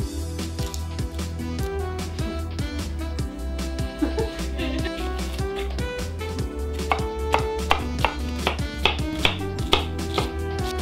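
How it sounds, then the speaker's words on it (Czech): A knife chops onion on a board for Czech meat pancakes, a rapid run of crisp taps that speeds up toward the end, heard under steady background music. "Teďkon si pěkně nakrájíme cibulku."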